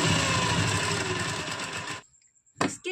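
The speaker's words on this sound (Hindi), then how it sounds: "इसको हम इस तरह से पकड़ के स्टिच कर लेंगे" An electric sewing machine runs loud and close at steady speed stitching a fabric strip onto a boat-neck kurti, then stops abruptly, followed by a short click and a brief restart.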